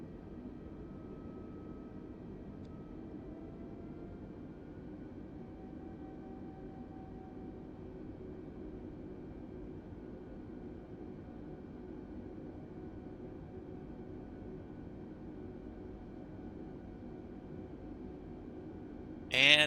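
An airliner's auxiliary power unit runs in Microsoft Flight Simulator, a steady low mechanical drone with a faint whining tone, unchanging for nearly twenty seconds before a brief louder burst at the end.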